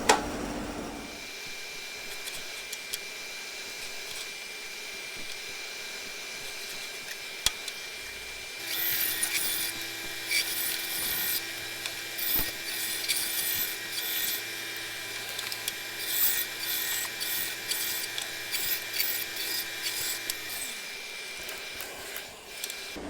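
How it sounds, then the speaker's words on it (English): A wood lathe turns a split, wormy bowl blank, the steady motor hum joined by a dense, continuous scraping and hissing as the tool cuts, running for most of the stretch without talk. "Now this I can put back on the lathe and just turn that away"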